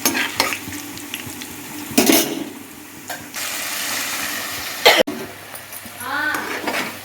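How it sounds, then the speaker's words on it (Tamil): Sizzling and scraping of ground green chilli paste frying in oil, with a few sharp stirring clatters and bursts of hiss, close by. "கொஞ்சம் எண்ணெயில் நல்லா வதங்க விடுங்க"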